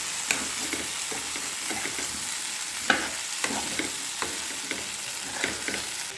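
Ivy gourd pieces fry in a pan for a masala curry, a steady close sizzle broken by scraping stirs and sharp clinks of a spatula against the pan at irregular intervals.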